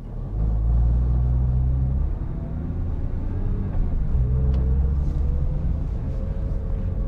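A used Nissan GT-R accelerates while turning during a test drive checked for transmission issues, a low steady engine rumble heard from inside the cabin, loud and continuous throughout.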